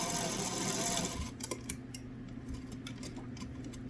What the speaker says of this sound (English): now I'm sewing across the bottom